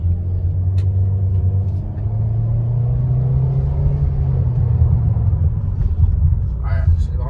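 A Toyota Veloz car engine drones steadily from inside the cabin, a loud, continuous low rumble holding as the car pulls forward at moderate pace.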